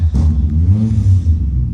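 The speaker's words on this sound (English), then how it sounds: "Neighbour's just fired his car up going to work." A neighbour's car starts up and revs nearby in the early morning, giving a steady low engine rumble that swells slightly over under two seconds with no talking.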